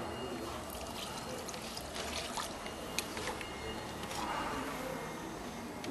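A small amount of water trickles into a GacoFlex S-20 coating mix in a bucket, a soft ongoing pouring and splashing sound at moderate distance, fairly faint with light background noise.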